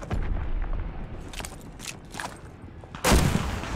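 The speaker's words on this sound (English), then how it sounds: "Yes, fire the flare." A flare gun fires in Call of Duty Vanguard, one sharp, loud blast near the end, after several fainter distant shots and booms in a game battle.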